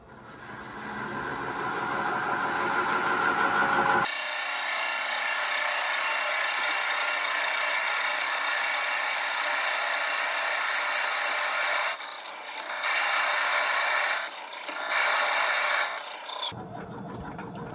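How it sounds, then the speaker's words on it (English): A 50mm Forstner bit bores into salvaged maple spinning on a wood lathe at 360 RPM, giving a steady, close grinding rasp that runs continuously for most of the clip, with a few brief dips and surges near the end. "drill out a hole to start our hollowing. I've got a 50mm Forstner bit, about 2 inches, and we're turning at 360"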